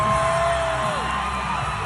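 A crowd cheers and whoops steadily as Governor Ron DeSantis takes the stage, a dense continuous roar with a rising whistle-like whoop above it, heard at a distance.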